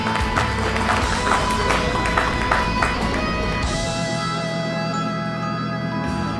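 Dense, steady applause fills a music award ceremony, the second Natyashwor Music Award 2076, with faint sustained musical tones underneath and no clear breaks throughout.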